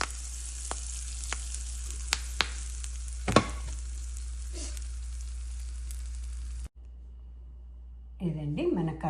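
Mustard seeds, cumin, chana and urad dal and two dried red chillies sizzle in hot oil as a tempering for curry leaf chutney, a steady frying hiss with a few sharp pops, then a sudden drop and a voice near the end.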